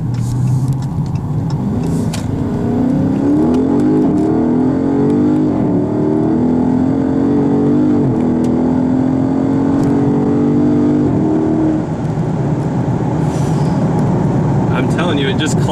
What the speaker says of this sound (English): how about another first gear pull?